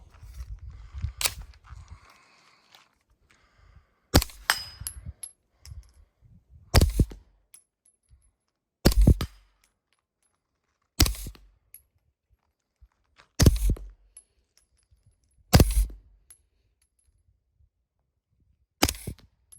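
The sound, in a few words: firing ten rounds from a retro 9mm AR rifle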